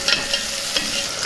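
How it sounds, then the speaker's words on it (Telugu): Green chillies, seasoning spices and onion pieces fry in hot oil with a steady, close sizzle, while a spoon scrapes and stirs the pan in brief louder strokes. "అలాగే ఉల్లిపాయ ముక్కలు వేసుకుందాం. వీటిని బాగా వేయించుకుందాం."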